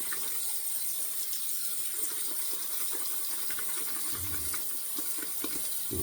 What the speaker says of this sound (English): I'm adding a lot of water to this here.